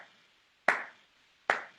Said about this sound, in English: so you keep clapping